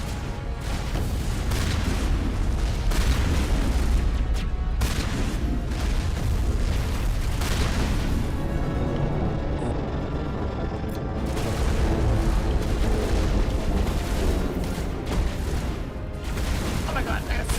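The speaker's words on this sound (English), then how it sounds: "so we got 3 turrets going" Turrets fire continuously in Mass Effect, a dense, loud barrage of booms and blasts that rumbles without letup. A voice speaks over it at times.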